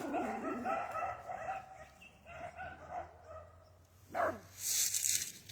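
Dogs bark outdoors on a rural walk: a few scattered barks and yips over distant rooster-like calls and birds, faint and somewhat far, with a sharp louder yelp near the end.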